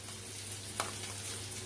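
Spice paste frying in a pan for a Bengali curry of katla fish cooked with yogurt, a faint steady sizzle broken by two sharp spatter pops, with no talking.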